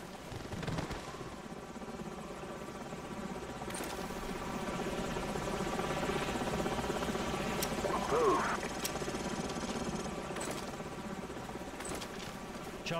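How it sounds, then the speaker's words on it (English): Enemy helicopters in the video game Modern Warfare give off a steady rotor drone with engine hum, joined by a brief whine midway. Game voices talk over it. "Enemy helicopters."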